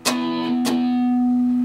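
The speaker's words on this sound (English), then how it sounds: "you're just going to mute the strings and go down again" Distorted electric guitar gives two quick downstrokes, a muted percussive strum followed by a ringing chord that sustains loudly.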